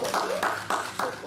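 A church congregation at a Wednesday Bible study claps in a quick, even rhythm, several sharp claps close together, with faint voices mixed underneath.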